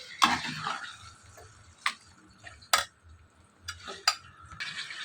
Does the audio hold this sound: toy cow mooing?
no